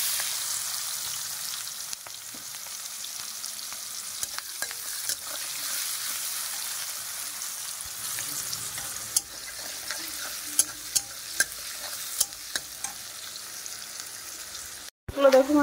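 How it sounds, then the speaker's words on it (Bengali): Chopped onions hit hot oil in a pan after potatoes fry for a meat curry, making a steady, moderate sizzle with occasional faint spatula taps and no talking. "ফ্রাই করা হয়ে গেছে, এখন কুচিয়ে রাখা পেঁয়াজগুলো দিয়ে দেবো আমি।"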